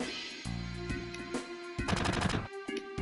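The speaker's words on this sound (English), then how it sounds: "Are you still gonna shoot me?" Rapid bursts of gunfire from the Final Fantasy VII video game, dense rattling volleys mixed with game music and effects, loud and continuous across the short stretch with no talking.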